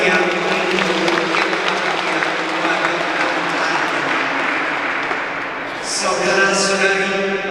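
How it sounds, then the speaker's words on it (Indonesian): Sustained, loud applause from a crowd celebrating a couple's 50th wedding anniversary at a thanksgiving mass, steady throughout, with a voice briefly audible near the end. "Kita beri aplaus yang meriah."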